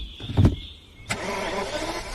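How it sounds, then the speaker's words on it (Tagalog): A car engine cranks briefly and then catches, settling into a steady running hum close by, with no talk over it. "Teka, umaandar na siya, Troy."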